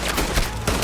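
A short burst of rapid gunfire in a gang shooting video game, several loud overlapping shots packed into under a second.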